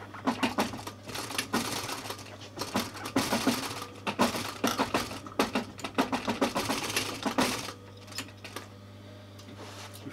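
A sewing machine stitches a cover with piping cord for a Vanwerks buddy seat, running in fast rapid bursts of mechanical clatter that pause and restart, close by and fairly loud, with no talk.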